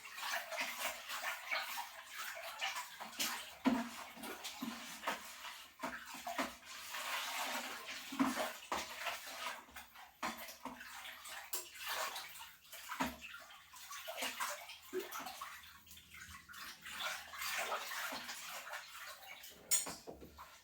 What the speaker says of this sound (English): lots of splashing.